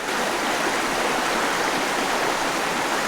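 A clear mountain stream flows over rocks in a brook below abandoned coal mines, its water polluted by acid mine drainage, giving a steady, close, loud rushing wash with no talk.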